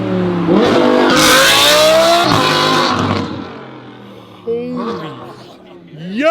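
A Lamborghini engine revs hard up close, a loud rising roar with climbing pitch that drops off, then shorter blips of revving, with people exclaiming over it.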